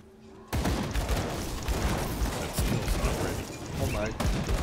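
Mortar fire in the action RPG Grim Dawn: dense, continuous booming and mechanical clatter that bursts in loudly after a short quiet start and keeps rumbling throughout, with a voice talking faintly underneath.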